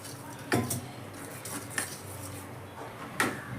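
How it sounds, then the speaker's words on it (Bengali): Bread pakora batter of bread and salt is mixed by hand in a bowl as water is added a little at a time. A quiet, steady background is broken by three sharp clinks of a utensil against the dish, with no talking. "এবার অল্প অল্প জল দিয়ে আমি মেখে নেব"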